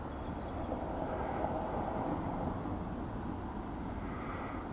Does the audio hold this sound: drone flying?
yes